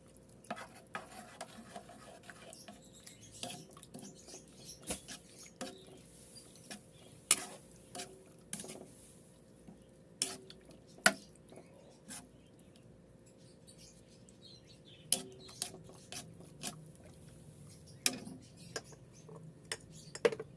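Bicol Express with ampalaya being stirred continuously in a pan, a spoon scraping and clinking against the metal in irregular taps over a soft simmer, fairly quiet and with no talking.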